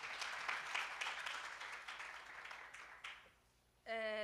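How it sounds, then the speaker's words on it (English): Audience applause at an economic development fund report launch, a steady wash of clapping that swells and gradually thins out, followed by a sharp tonal sound at the very end. "Round of applause"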